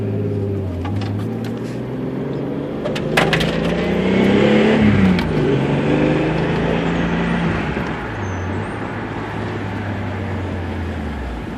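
A Toyota Supra driven with a failed power steering pump, heard from inside as a steady engine drone whose pitch rises and falls across a rev swell midway, with several faint clicks and knocks from the cabin.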